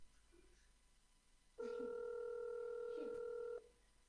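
Phone call on an outgoing line, with a steady electronic ringback tone that sounds for about two seconds after faint background talk, then cuts off unanswered.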